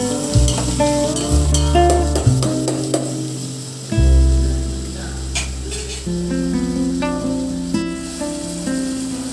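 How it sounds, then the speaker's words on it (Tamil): Onion, curry leaves and chopped tomato sauté in hot oil in a pan for a mutton kurma, giving a steady close sizzle with occasional stirring scrapes and light clinks, over a continuous tonal background. "எண்ணெயில் பார்த்திங்கன்னா வெங்காயம், கருவேப்பிலை இதெல்லாமே ஆட் பண்ணி நல்லா வதக்கலாம்"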